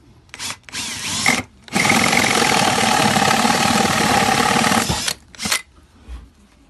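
A Pro-Fit TCT 33mm holesaw on an 18-volt Milwaukee cordless drill cutting through wood: a couple of short spin-ups, then a loud, steady whirring bore lasting about three seconds, followed by a brief final burst, close by.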